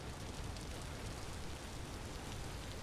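Steady rain hisses evenly and without pause in the survival video game Vintage Story, a dense, soft wash with no distinct drops or thunder.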